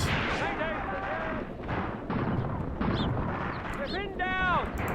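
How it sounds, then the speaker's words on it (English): Grenade blasts in a tank warfare battle game set in Tunisia in 1943 boom and rumble through a dense mix of battlefield noise, with whistling projectiles and cracks in the distance and a voice talking over it. "See some grenades as the assault begins."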